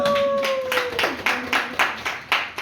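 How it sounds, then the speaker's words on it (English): Rhythmic group clapping at a welcome event, about eight sharp, evenly spaced claps from a nearby crowd, with a sung or held voice tone fading out in the first second. "give us a round of applause for that"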